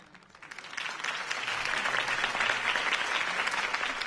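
Sustained crowd applause in the video game Telltale's Batman swells in and holds steady after a campaign speech, a dense wash of many hands clapping.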